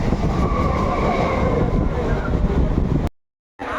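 Steady, loud rumble inside a moving commuter train carriage near Belgharia, continuous low-frequency wheel and car noise for about three seconds before cutting to silence, then resuming briefly.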